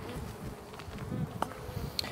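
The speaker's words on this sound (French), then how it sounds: "Bon, bah voilà, c'est un petit essaim tranquille." A small, calm honeybee swarm buzzes steadily inside an opened hive, a soft, continuous hum with a few faint clicks, with no talking.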